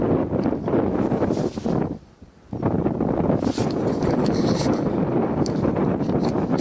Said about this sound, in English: I didn't think this wind would be so sustained